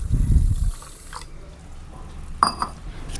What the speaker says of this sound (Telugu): నెక్స్ట్ ఇప్పుడు వాటర్ వేయాలి.